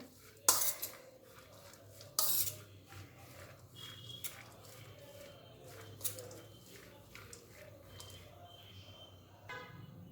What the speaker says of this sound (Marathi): आता हे सर्व मिक्स करून घ्यायचं आहे